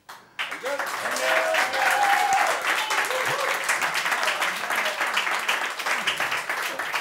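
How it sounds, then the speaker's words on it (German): A pub audience at a live talk show in the Lamm in Oferdingen breaks into loud, sustained applause that follows a brief tonal band sting, with voices and cheering mixed in as the clapping gradually thins. "Euer Applaus"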